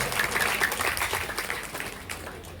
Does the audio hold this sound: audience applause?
yes